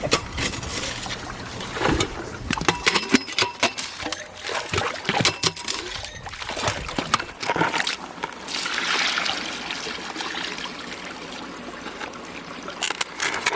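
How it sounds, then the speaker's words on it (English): A yabby pump sucks up gravel and water from a stream bed while gold prospecting, giving irregular wet gurgles, splashes and rattling clunks, loud and close, with rushing water throughout. "Oh yabby pump, come and suck the bed of a stream for me."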